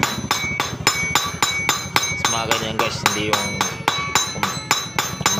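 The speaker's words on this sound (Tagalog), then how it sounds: "Pukpukin lang guys ng martilyo," Regular, rapid hammer blows on a Suzuki X4 motorcycle clutch housing, a steady metallic rhythm of about three strikes per second, close and loud, with brief ringing metal tones and someone talking over the pounding.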